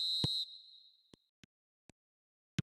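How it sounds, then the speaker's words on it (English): A referee's whistle in a football video game: one sustained shrill blast fading out, followed by a few sparse soft taps, with no talking. "There's the whistle."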